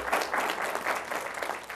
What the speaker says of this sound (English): You're welcome to applaud.